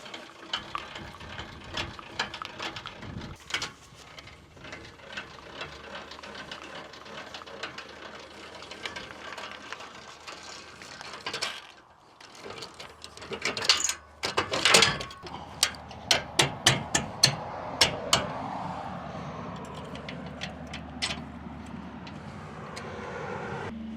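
A ratcheting boat trailer jack being lowered, giving a run of sharp, evenly spaced metallic clicks in the second half after a stretch of mechanical clanking and handling noise, close by with no talk.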